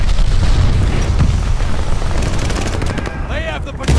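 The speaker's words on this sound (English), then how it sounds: "Enemy glide bomb coming in hot." An enemy glide bomb attack in Call of Duty: Vanguard: dense rumbling explosions and rattling gunfire fill the scene, ending in a sweeping whistle-like rise as the bomb streaks in.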